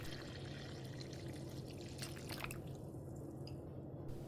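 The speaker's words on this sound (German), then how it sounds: "Und ganz unkompliziert geben wir 525 Milliliter kaltes Wasser hinein." Faint trickle and pour of cold water into a bowl of flour for yeast-free bread dough, a soft liquid stream with a few drips, close and quiet with no speech.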